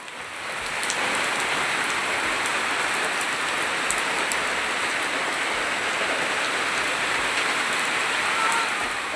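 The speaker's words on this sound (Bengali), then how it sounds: "আর এদিকে দেখো বৃষ্টি চলেই আসলো।" Steady rain pours down outside a home, a dense, even hiss of drops on surfaces that swells in after a second and holds loud and constant throughout.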